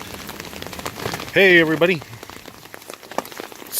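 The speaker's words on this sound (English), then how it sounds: "So this is not snow in the middle of June. This is hail." Hail rattles down in a June storm in Colorado as a dense, constant patter of hard pellets hitting surfaces. A person briefly speaks partway through while the pelting continues.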